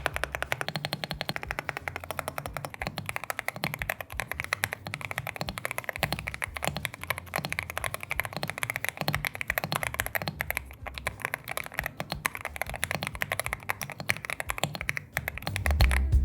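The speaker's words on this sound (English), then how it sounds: "I'm gonna start off with the sound test because I have a feeling you guys are gonna love it." Fast, continuous typing on an Epomaker TH80 Pro V2 mechanical keyboard, dense clacking keystrokes close to the mic for the whole stretch with no talking.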